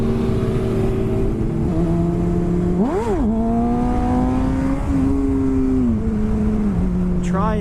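A motorcycle engine catches and runs after a push start on the road, giving a steady mid-pitched drone with a sharp rev blip partway through and another rise at the end, under passing traffic and occasional talk.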